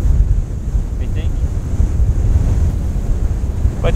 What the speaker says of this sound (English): It's a very windy night.